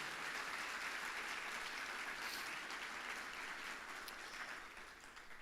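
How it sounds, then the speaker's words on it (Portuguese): A church congregation claps steadily in sustained applause, a dense even wash of hands that fades slightly at the end. "Você pode dar uma salva de palmas para Jesus?"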